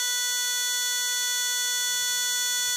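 A buzzer alarm sounds from a gas leakage detector in a car safety project, a steady high-pitched electronic tone held without a break throughout.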